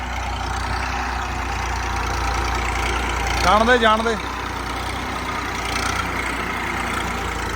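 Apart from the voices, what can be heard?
tractor engine idling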